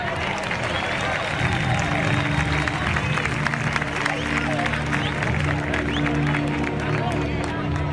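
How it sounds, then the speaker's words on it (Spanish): Applause and crowd noise fill a bullring arena at a winter fair recortadores contest, a steady dense wash of clapping mixed with babble and low rumbling, with a voice calling out over it. "Recibimos con un fuerte aplauso de la Ilusión Castellón, Mario Carrillo."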